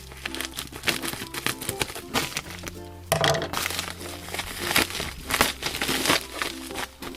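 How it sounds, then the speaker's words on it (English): A package from Metal Sludge is cut open with scissors at close range, with irregular crinkling, rustling and crackling of packaging plus occasional snips and light clunks, and no talking. "Of course, I need to use scissors."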